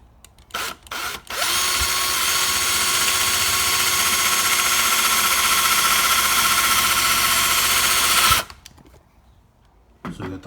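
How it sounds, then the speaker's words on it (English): A power drill with a step drill bit bores a hole for a third brake light on a 2021-23 Ford Bronco, whining loud and steady for about seven seconds between brief starts and stops. "You get yourself the drill stepper."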